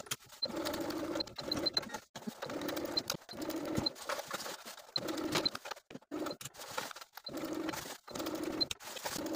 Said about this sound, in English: Sew the sleeve to the bodice with a 1/2 inch seam allowance, finish the raw edges, and repeat for both sleeves.